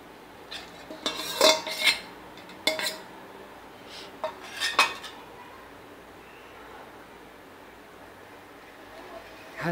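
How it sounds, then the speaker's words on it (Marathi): Pohe chivda stirred in a pan, with scattered metallic scrapes and light clatters of a spoon against the pan in short bursts, fairly close, then fading to quiet. "हलवून घ्यायचं आहे बघा, असा हलवायचा चिवडा"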